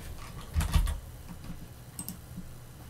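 Someone types on a computer keyboard while working in a terminal, with a quick cluster of clicks followed by a few sparse, quiet keystrokes in a still room.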